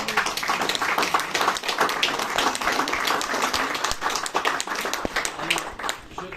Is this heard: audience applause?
yes